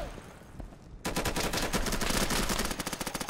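Rapid gunfire in the Insurgency video game, after a quiet second with a faint voice, erupting into a loud, sustained burst of closely spaced cracks that thins into separate shots near the end.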